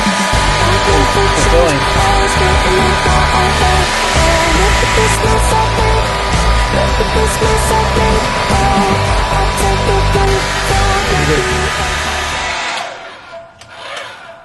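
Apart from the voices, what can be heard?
hair dryer blow drying dyed bucktail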